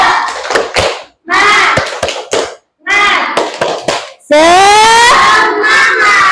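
A school class performs a rhythmic clapping chant, sharp bursts of hand claps alternating with children shouting in unison, ending in a long drawn-out group cry, loud and close.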